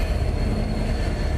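A freight train rolls past with a continuous loud rumble and rattle of railcars, steady low-frequency roar throughout with faint high whine, no voices.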